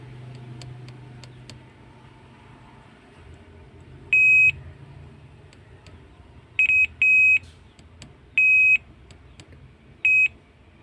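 A multimeter in buzzer mode beeps while capacitors on a Poco C51 phone board are checked for a short: five short, clear, high-pitched tones, some single and some doubled, close and loud over faint background noise.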